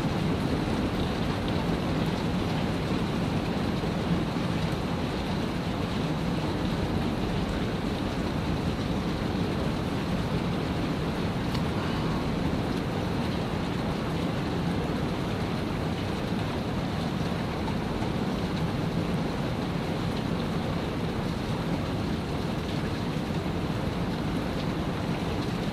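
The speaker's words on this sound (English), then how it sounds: "If you guys can hear that thunder." Steady heavy rain with low rolling thunder during a severe thunderstorm, a dense continuous wash of sound heard from indoors, no talking.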